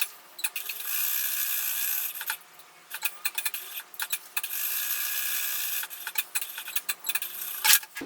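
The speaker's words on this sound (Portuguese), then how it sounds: "E agora eu vou fazer uma costura nesse quadradinho que a gente marcou." Sewing machine running a straight stitch of about 2 mm around a small marked square on a fabric tote bag, heard in several close bursts of fast mechanical whirring separated by brief pauses.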